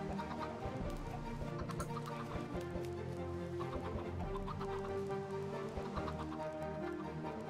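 Chickens clucking in Minecraft with a steady, dense layer of game sound, rain-like noise and music-like tones running throughout and no talk.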